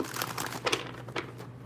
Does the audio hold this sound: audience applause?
no